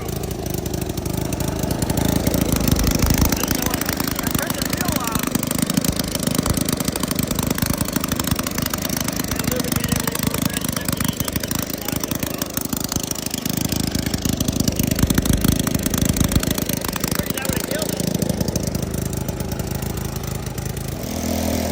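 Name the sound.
wasteland racer car engine running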